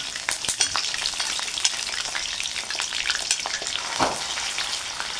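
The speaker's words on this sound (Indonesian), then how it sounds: "Lanjut kita goreng untuk minyak bawang." Chicken skin sizzling and crackling in hot oil to make onion oil for chicken noodles, a dense continuous frying noise with occasional stirring scrapes, close and fairly loud.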